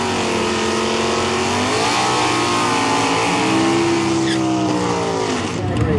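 A '69 Camaro naturally aspirated drag car engine revs hard at Woodburn Dragstrip in Oregon during arm drop drag racing, a loud continuous roar with rising and falling pitch sweeps throughout.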